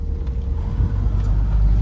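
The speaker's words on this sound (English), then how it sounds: "We got belts squealing and all kinds of good stuff happening" A 1980 Ford F100, revived after sitting 29 years, runs with a steady low engine rumble close by, though no distinct belt squeal stands out over the continuous drone.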